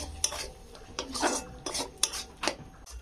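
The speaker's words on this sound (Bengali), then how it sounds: "এবার এখানে দেবো আমি গরম মশলা গুঁড়ো দিয়ে আমি ভালো করে এটা দিয়ে কষবো" Garam masala being stirred and fried in a pan of oil for aloo dum, giving a series of close scraping, clinking strokes of a spoon against the pan, steady and rhythmic with no talking.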